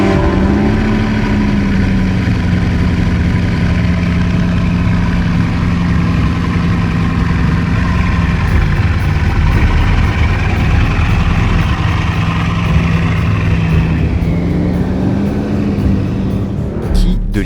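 A Bugatti Chiron Sport hypercar and a Dassault Rafale fighter jet warm up their engines, a loud steady idling drone with a low throbbing pitch that dips and shifts, heard close and continuous with talk mixed in.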